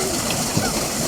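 Water splashes and sloshes at a tubewell where children swim, a brief continuous wash of churning water with no clear individual splashes standing out.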